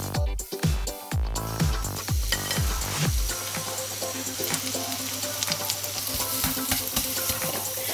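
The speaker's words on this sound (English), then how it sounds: "Get our frying pan, and on a medium-high heat, we're going to melt some butter." Butter melts and sizzles in a frying pan over medium-high heat, a steady close hiss after a few brief knocks and clatters at the start, continuing without talk.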